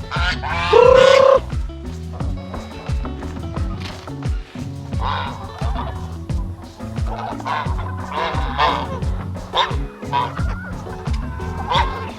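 Chickens and roosters at feeding time, with clucking and crowing calls scattered over busy farmyard noise and a loud call near the start, continuing throughout.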